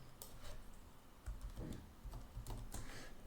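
Faint keystrokes tap on a computer keyboard in a few scattered clicks over a low background hum, quiet and without speech.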